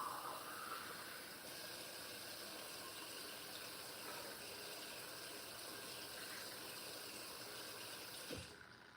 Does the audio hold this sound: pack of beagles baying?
no